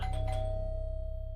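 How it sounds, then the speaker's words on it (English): A doorbell rings at a house at dawn, a two-tone chime struck twice quickly and then a long ringing tone that slowly fades, heard alone over a low steady hum. "The Colombian federal agents ring the doorbell at dawn."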